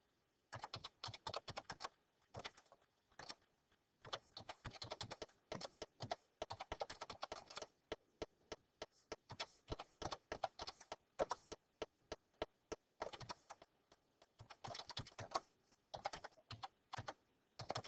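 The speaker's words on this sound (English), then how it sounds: "So let me just type those in." Rapid plastic key presses on a graphing calculator keypad as list data is entered, bursts of quick clicks separated by short pauses, close and alone without talk.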